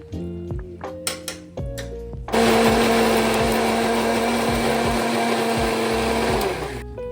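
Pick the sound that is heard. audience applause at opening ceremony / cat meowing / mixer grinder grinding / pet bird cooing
mixer grinder grinding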